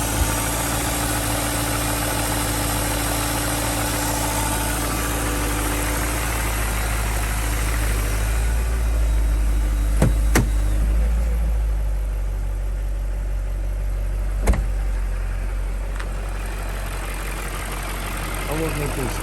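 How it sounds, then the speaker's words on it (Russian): BMW M62B35 V8 engine idling steadily after a cold start, with a faulty VANOS producing a faint knock under a continuous low drone and a couple of sharp clicks, close and loud throughout. "Холодный пуск без достаточного движения."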